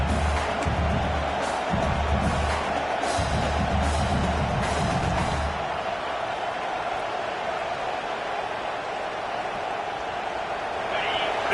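A stadium crowd at a college football game roars in a broad, sustained wash of noise while a commentator talks over it, the swell easing midway into a steadier background din.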